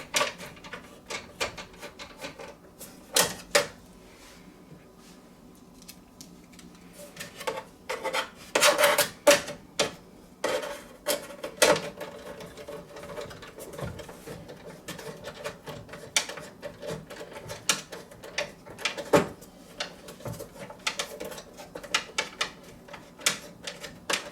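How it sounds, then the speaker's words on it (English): Sharp clicks, taps and short scraping bursts as processor tray guides are fitted into a Mac Pro 5,1 chassis, close and irregular, with quieter stretches between clusters; no speech. "Then we attach a few of the guides for the processor tray."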